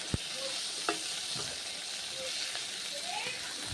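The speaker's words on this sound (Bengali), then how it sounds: "সজনে শাক টমেটো পেঁয়াজ নেড়ে চেড়ে নিতে হবে" Drumstick leaves, tomato and onion stir-fried in a wok, with a steady close sizzle and a few sharp spatula scrapes and taps against the pan.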